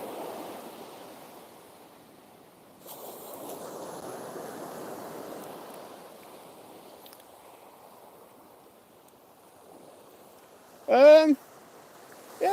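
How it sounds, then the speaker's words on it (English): Surf rolls and washes steadily against a beach at Southbourne during evening sea fishing, a broad soft roar that swells and eases, with wind on the microphone and a brief sharp sound near the end. "Waves crashing against the shore."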